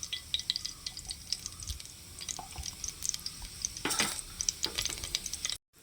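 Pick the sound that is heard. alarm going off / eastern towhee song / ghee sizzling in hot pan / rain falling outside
ghee sizzling in hot pan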